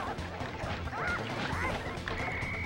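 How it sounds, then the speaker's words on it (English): Roosters blowing up in a video game mini-game, with cartoonish squawks and crashing bursts layered over steady game music and effects, ending on a sustained tone. "I've never seen two roosters spawn and then instantly blow up each other"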